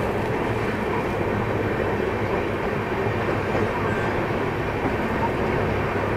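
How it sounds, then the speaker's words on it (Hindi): Rajdhani Express and Jan Shatabdi trains run side by side, giving a loud, steady rail rumble with dense wheel and carriage noise that holds evenly throughout. "राजधानी एक्सप्रेस और जनशताब्दी की रेस में कौन जीतेगा देखते हैं।"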